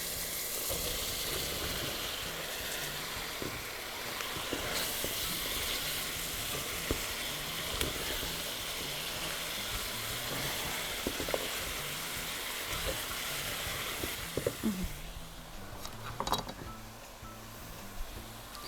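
Green beans and meat fry in a pan with a steady, close sizzle that runs throughout, broken by occasional stirring clatters and spatters toward the end.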